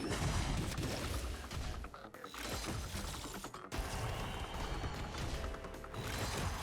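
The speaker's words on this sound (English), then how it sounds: "Random explosions in the background." Dense, chaotic bursts of booming and crackling crashes roll on continuously, like a busy battle with explosions going off one after another, in the video game Honkai: Star Rail.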